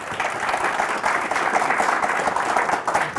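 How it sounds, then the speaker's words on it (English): An audience at a chapter meeting gives a round of applause, a dense, steady patter of many hands clapping for several seconds at moderate loudness. "One more round of applause."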